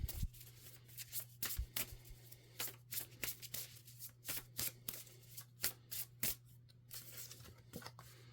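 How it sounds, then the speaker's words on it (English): Oracle cards being shuffled by hand, quiet crisp riffling flicks repeating in quick irregular bursts, close and intimate with a faint steady hum beneath. "Let's pull a couple more cards."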